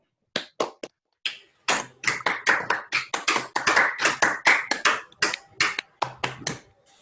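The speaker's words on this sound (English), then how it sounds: "let's unmute ourselves briefly and clap" Scattered online audience clapping after a talk in a video call, with several separate bursts of hand claps of uneven length, starting sparse, then a denser run, then trailing off in a few final short bursts, close and clear, with no voices.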